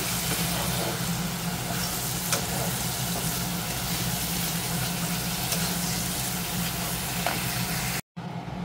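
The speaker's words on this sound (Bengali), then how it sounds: "দেখো আমার কষানো চলছে আলুর দমের জন্য, এখন কষছি।" Spices and potatoes for Bengali aloo dum sizzle and fry steadily in a pan, loud and close, with stirring scrapes throughout and a brief drop to silence near the end.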